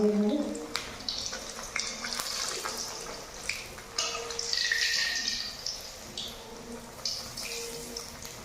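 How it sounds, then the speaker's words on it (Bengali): Kochuri, peas-filled fried bread, frying in a pan of hot oil, giving a continuous bubbling hiss with bright crackling flare-ups and occasional soft clinks, steady and close throughout. "এবার তেল গরম হয়ে গেছে, লুচিগুলো ভেজে নেবো, কচুরিগুলো।"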